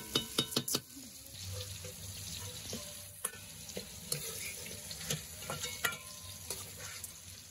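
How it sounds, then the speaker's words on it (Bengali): Potato and pointed gourd pieces fry and sizzle in hot oil in a home kitchen, a steady crackle broken by a few sharp clinks of a utensil at the start and occasional stirring scrapes, close and continuous with no talk. "আমার আলু পটল ভাজা হয়ে গেছে"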